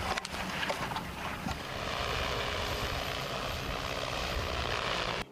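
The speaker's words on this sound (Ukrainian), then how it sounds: "Рейс за рейсом дрон тягає важкі протитанкові міни та скидує в необхідні квадрати." Military drone in flight at night, hauling heavy anti-tank mines, giving a steady, loud engine and propeller drone that holds continuously throughout.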